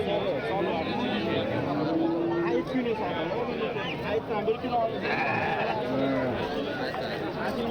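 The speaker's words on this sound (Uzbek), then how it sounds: "Nima enalari ham chiroyli qo'ylar ekan," Sheep bleat several times, some drawn-out calls close by, amid constant chatter and crowd babble at a busy livestock bazaar, with people talking throughout.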